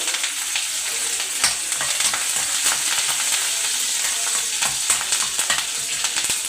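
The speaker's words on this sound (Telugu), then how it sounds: "ఇప్పుడైతే పోపు అయితే పెట్టేసుకుంటున్నాను" Telugu tempering (popu) frying in a pan, a steady close sizzle and crackle of hot oil with irregular spoon scrapes and clinks against the metal throughout.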